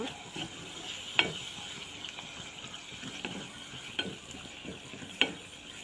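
Spices and chicken for a restaurant-style chicken bhuna sauté in a pan: a soft, steady sizzle punctuated by sharp scrapes and clinks of a spoon against the pan roughly every second.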